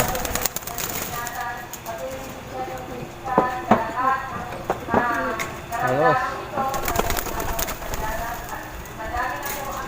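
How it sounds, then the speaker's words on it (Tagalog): Pigeons leave their loft in the morning, with wing flaps and bird sounds over a busy background, while a person talks throughout. "Ayan sila mga kalapatids, naglalabasan na."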